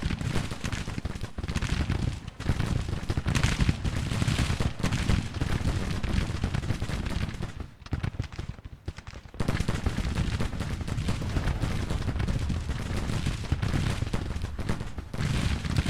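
Dense, continuous musket and artillery fire from Grand Tactician: The Civil War rolls on as a loud, crackling battle din, dipping briefly midway before resuming at full intensity.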